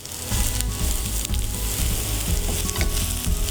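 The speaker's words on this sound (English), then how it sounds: "So we cook the pumpkin first a little bit" Pumpkin pieces cooking in a pot over a high flame for roasted pumpkin and orange soup, a loud, close, continuous sizzle with a low bubbling rumble and occasional stirring, no voices.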